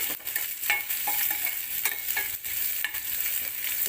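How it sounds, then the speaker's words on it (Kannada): Onions fry in a pan with a constant close sizzle, broken by irregular scrapes and clicks of stirring; no one speaks. "ಚೆನ್ನಾಗಿ ಫ್ರೈ ಮಾಡಬೇಕು ಈರುಳ್ಳಿನ ಚೆನ್ನಾಗಿ ಬಾಡಿಸ್ಬೇಕು"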